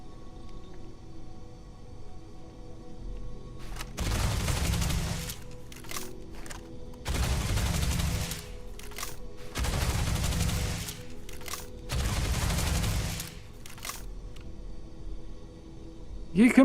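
Starfield: Shattered Space weapon fire: four sustained bursts of rapid, booming gunshots with short gaps between, loud and close, separated by quieter stretches with a faint voice.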